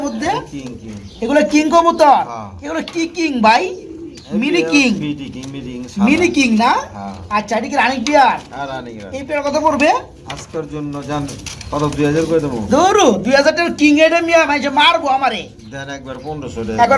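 Khaki Giribaz high-flying pigeons cooing repeatedly in soft rolling bursts, close by, with someone talking over them much of the time.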